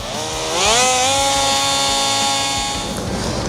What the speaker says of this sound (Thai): มันก็จะกลายเป็นเครื่องขัดกระดาษทรายแบบสั่น ก็สามารถใช้งานได้แหละ ปรับความเร็วรอบเอานะครับถ้าชอบ